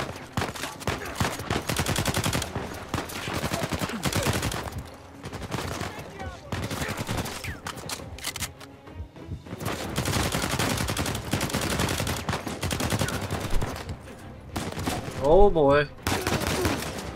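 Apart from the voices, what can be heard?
gunfire in the video game Uncharted 4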